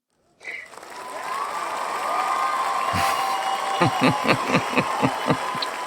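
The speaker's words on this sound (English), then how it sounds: "Round of applause" A round of applause from a small audience, building after a moment of quiet into steady clapping with cheering voices, then distinct rhythmic claps near the end.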